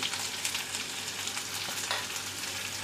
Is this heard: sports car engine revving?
no